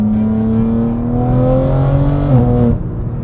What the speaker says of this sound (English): this is a 3-liter inline-6 twin-turbo motor